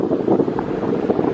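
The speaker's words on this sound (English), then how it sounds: "These waves are pretty big." Surf at Sandy Hook Beach, New Jersey, rolls in as a steady wash of large breaking waves, close and loud, with wind buffeting the microphone.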